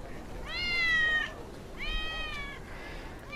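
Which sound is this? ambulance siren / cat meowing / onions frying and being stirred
cat meowing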